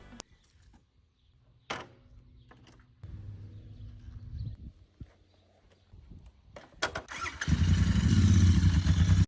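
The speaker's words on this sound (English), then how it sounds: "this guy posted this as an appreciation for his Royal Enfield motorcycle" A Royal Enfield motorcycle engine rises near the end into a loud, steady rumble after scattered quieter clunks and faint rustling, with no talk heard.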